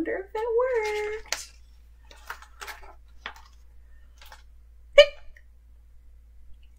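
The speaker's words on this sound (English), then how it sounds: "Maybe we can help get rid of the penguin's hiccups." A single sharp hiccup sound pops out in a penguin storytime, briefly and fairly loud, after a child-like voice and quiet speech fragments in an otherwise hushed room.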